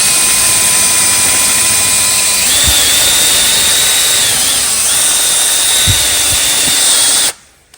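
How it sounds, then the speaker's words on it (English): A loud, steady high-pitched whine from a spinning wire wheel cleans a 1979 Honda XL500s motorcycle cylinder head, the pitch shifting as it bites, with faint knocks, then it cuts off abruptly at the end. "Then I used the wire wheel. Just try to clean the valve."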